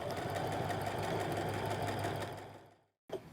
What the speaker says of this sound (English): I am just sewing as close to the edge as I can get.